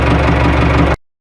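A Massey Ferguson tractor engine runs close by at a steady idle, a loud, even diesel chug with a low knocking throb that holds for about a second and then cuts off abruptly.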